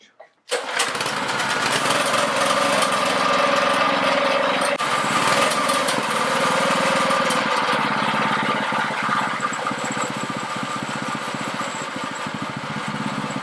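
A Baja mini bike's small engine runs steadily at high, governor-held revs, loud and close, droning on without a break after a sharp start.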